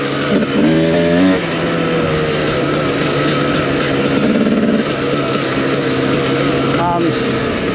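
A fuel-injected 2022 TM EN300 FI motorcycle engine briefly rises in pitch as the throttle is twisted open, partly buried under steady loud broadband noise.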